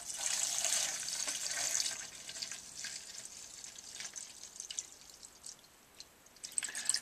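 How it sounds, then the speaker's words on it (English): A brake part from a Honda CB200 front brake is lowered into a container of white spirits, giving close, faint sloshing, trickling and dripping of liquid with no talk. "And completely submerge the part in there."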